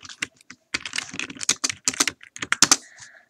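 Code is typed on a computer keyboard in quick, close bursts of sharp key clicks, with a few short pauses between runs and no voices over them.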